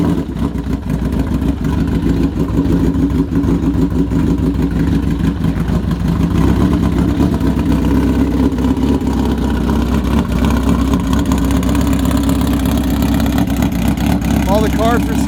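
A 1982 Honda CB900F cafe racer motorcycle engine running after a cold start with synchronized carburetors, a loud steady low rumble throughout, close by.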